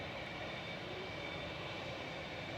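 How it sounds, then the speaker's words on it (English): An Etihad Boeing 787-10 Dreamliner departs Manchester Airport with a constant, dense engine roar, heard steadily and at even loudness throughout, with no voices. "Etihad departing now."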